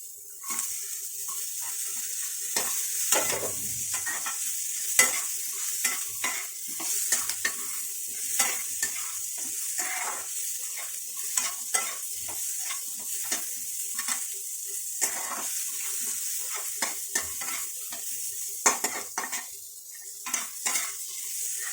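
Potato pieces frying in a pan with a steady sizzle, with frequent scraping and clinking of a spoon stirring against the metal, no voices.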